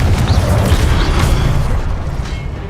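A Confringo fire spell bursts in Hogwarts Legacy, a loud, dense explosive roar with crackling debris that holds steady for a couple of seconds before easing off slightly at the end.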